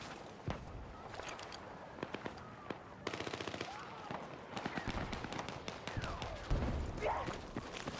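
Sniper and rifle gunfire on a hill during a Battlefield 6 match on the Liberation Peak map: scattered sharp shots and bursts crack at varying distances over a steady battlefield din, with some footsteps and faint voices mixed in.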